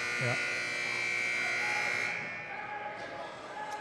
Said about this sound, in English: They're just saying ignore the buzzer.